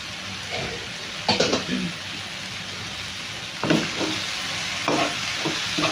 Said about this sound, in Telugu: ఇందులోనే కొంచెం కొత్తిమీర కూడా వేసుకుందాము కొంచెం కాడలతోనే వేసేస్తున్నాము